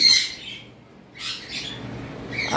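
A DNA-tested master pair of cockatiels gives two harsh, close squawking bursts, one at the start and another about a second later, over a low background hiss.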